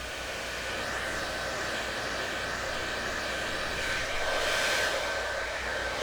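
A T3 AireLuxe hair dryer blows long, straight hair at the roots for a voluminous blowout, producing a loud, continuous airy whoosh close by that swells briefly near the end, with no voices.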